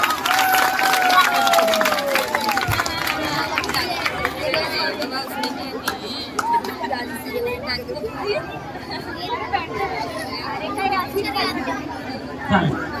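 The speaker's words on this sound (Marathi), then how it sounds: "जोरदार टाळ्या जोरदार" A crowd claps for a child actress at a Ganpati celebration, with scattered applause mixed into busy chatter and nearby voices for the whole stretch.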